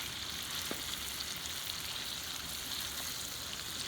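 Shrimp sizzle in a hot pan while being turned, a steady bright frying hiss with a small tap of a utensil, moderately loud and continuous with no voices.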